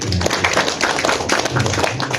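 An audience at a meeting claps their hands, with steady overlapping claps forming brisk, continuous applause at close range.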